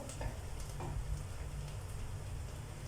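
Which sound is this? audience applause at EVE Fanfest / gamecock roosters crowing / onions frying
onions frying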